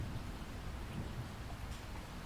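A steady, dense downpour of rain with a low thunder rumble runs as a continuous wash. It is moderately loud and even throughout, with no voices.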